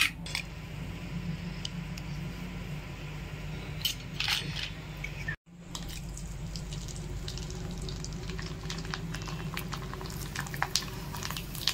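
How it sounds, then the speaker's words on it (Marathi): A snack fries in hot oil, a close, steady sizzle and bubbling with scattered crackles and a few clinks, briefly cut off midway before resuming. "मी आता तुम्हाला तळून दाखवते"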